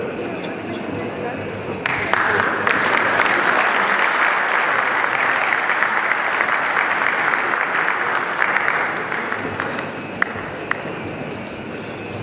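Audience at the DuSable Heritage Association gala bursts into dense, steady applause that swells quickly and holds loud for several seconds before thinning, with a voice briefly heard over the clapping.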